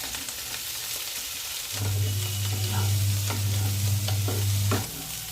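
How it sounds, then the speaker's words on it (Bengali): Chopped onion and spring onions frying in a pan, stirred: broadband sizzle with scraping stir strokes, swelling louder as a steady low hum joins midway, close and with no talk. "পেঁয়াজ কলি কিছুটা ভাজা হয়ে গেছে, 1 পিস মাঝারি সাইজের পেঁয়াজ কুচি করে রেখেছি দিয়ে দিলাম।"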